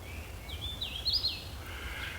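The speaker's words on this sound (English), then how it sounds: "I believe the call to be that of the hooded warbler" A hooded warbler calls in a woodland preserve with dense understory, a faint, high, slurred call that rises and falls over roughly a second against a steady low background hum.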